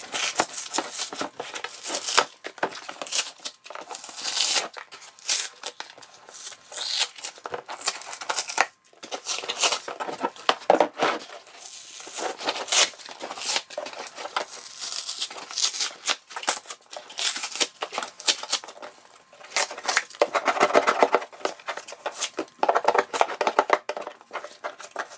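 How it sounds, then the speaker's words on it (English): Peeling and scraping old material off a cooler with a chisel: close, irregular bursts of tearing, crinkling and scraping that run continuously with brief pauses. "we're gonna get all the big chunks off, and then we're gonna get under the chisel and kind of scrape up the little stuff and clean it up"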